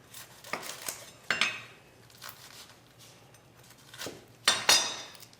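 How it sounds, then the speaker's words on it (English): Knife strokes slicing shallots on a board come as a few scattered soft taps and scrapes, with a couple of louder knocks near the end, close and quiet. "Cut my shallots."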